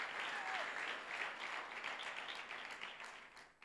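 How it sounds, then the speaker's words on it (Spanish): Church congregation breaks into applause, a broad steady wash of many hands clapping together for a few seconds, easing slightly near the end. "¿Cuántos le pueden dar un aplauso a Dios para que se despierte?"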